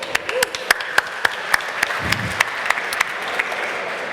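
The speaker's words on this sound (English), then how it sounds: "Applause, please." A startup pitch event audience applauds, a steady wash of many hands with sharp individual claps standing out in an irregular rhythm, moderately loud and close throughout.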